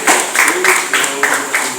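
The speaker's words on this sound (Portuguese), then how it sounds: "Aplauda o Senhor." A church congregation claps in a steady, rhythmic beat of sharp hand claps, loud and close, with possible voices blended into the clapping.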